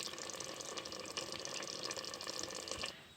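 Water gushes into a pot of fried basmati rice, a steady rushing pour with faint clinks, loud and close, easing off at the very end.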